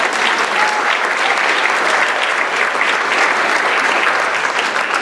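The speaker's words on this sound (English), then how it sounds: "let's have a round of applause" Dense, steady applause from an audience at a community theater production, a continuous wash of clapping that fills the whole stretch at even loudness with no voices standing out.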